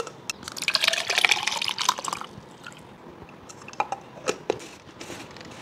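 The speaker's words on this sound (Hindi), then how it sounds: "अब ये ठंडा ठंडा मोगू मोगू इस ग्लास में डाल के पीते हैं।" Cold Mogu Mogu lychee drink poured from its bottle into a glass, with a gurgling, splashing stream for the first couple of seconds, then softer drips and a few sharp clinks and plops as it settles.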